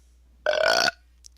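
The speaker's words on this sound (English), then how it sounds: "gonna keep burping until someone does something" A single loud, throaty burp lasts about half a second and is heard alone, with a brief faint click following.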